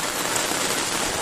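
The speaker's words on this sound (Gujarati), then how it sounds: "વરસાદ પણ જબ્બર ચાલુ" Heavy rain pours down in a dense, steady hiss of broadband noise, loud and continuous with no voices.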